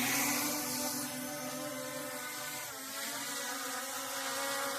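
A small drone's motors spinning up for takeoff, giving a bright, buzzing whine with layered tones that wavers in pitch and holds at a moderate level. There is no talk.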